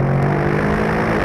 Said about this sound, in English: When you're hard on the gas and you grab a big downshift, it gives you just the most satisfying bark from the throttle.